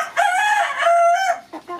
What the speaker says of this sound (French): cette poule pondeuse, je me demande si c'est pas un coq